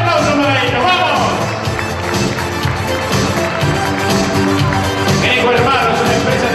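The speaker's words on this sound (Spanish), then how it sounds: "¡Fuerte el aplauso para ellos!" An audience at an award ceremony at the Sheraton in Mendoza applauds Greco Hermanos, loud steady clapping and crowd noise mixed with a loud announcer's voice throughout.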